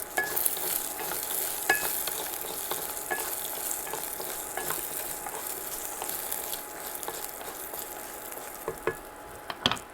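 Garlic cloves sauté in oil in a pan, giving a continuous close sizzle broken by scraping stirs and small sharp pops.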